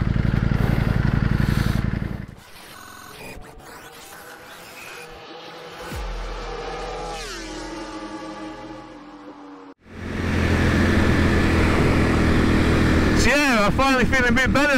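Riding a 2021 Ducati Panigale V4S sportbike: a loud engine roar at the start, then a quieter stretch with rising revs, and after a sharp cut the engine returns at full volume with fast climbing and falling gear changes. Some talk mixes in.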